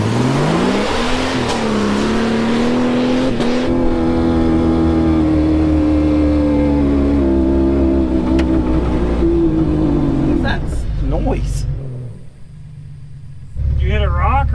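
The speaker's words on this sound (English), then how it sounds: "It just looked like your back wheels were only spinning." A four-wheel drive vehicle stuck in a sand trap revs hard and holds a loud, strained engine drone while its wheels spin in the sand. The engine drops away near the end, and voices break in close by.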